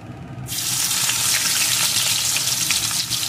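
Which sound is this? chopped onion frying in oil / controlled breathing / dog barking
chopped onion frying in oil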